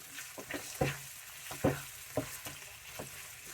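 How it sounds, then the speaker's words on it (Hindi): Minced meat keema roasting in a pan with ginger garlic paste, sizzling steadily up close with a few sharper bursts and scrapes as it is stirred, no talking. "इस तरीके से इसको हम थोड़ा पकाएंगे, भुनेंगे।"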